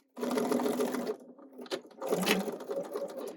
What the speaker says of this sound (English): As I sew the line, I'm removing my clips as I go.